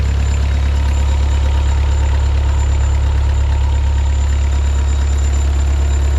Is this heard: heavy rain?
no